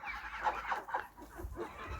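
Young yellow turkey poults on a farm peep and chirp softly in quick, uneven calls, close and fairly quiet.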